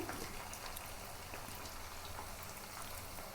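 Chicken 65 pieces frying in hot oil give off a steady, dense crackling sizzle that holds at an even level throughout, with no voices over it.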